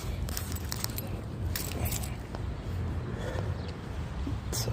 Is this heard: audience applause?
no